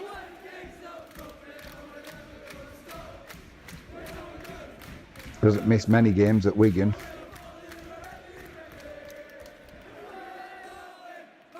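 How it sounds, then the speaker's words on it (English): Rugby league crowd at a Wigan versus St Helens Super League match rises into a loud burst of cheering and applause lasting a few seconds, with a commentator talking before and after. "All the fans are up, giving him a round of applause."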